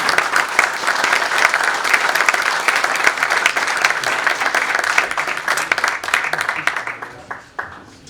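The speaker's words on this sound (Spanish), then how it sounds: "Les pido un fuerte aplauso para Francisco Anderson." An audience at a fair-trade panel discussion gives Francisco Anderson a strong round of applause, dense sustained clapping close by that thins out and tapers off near the end.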